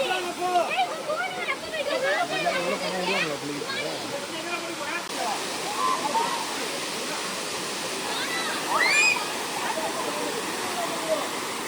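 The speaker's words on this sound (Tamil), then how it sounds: "வாட்டரோட ஃப்ளோ நார்மலாக இருக்கிறதுனால இவ்வளோ தான் தண்ணி வந்துட்டுருக்கு" Water from the Tada Waterfalls pours steadily over a check dam at normal flow, a continuous rushing wash heard close and loud throughout, with voices chattering over it near the start.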